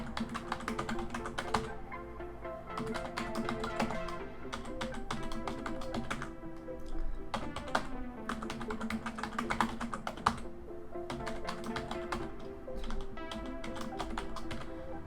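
A disk encryption password typed on a computer keyboard during an Ubuntu Server 22.04 LTS installation, with quick bursts of close keystrokes separated by short pauses, quiet and without talking.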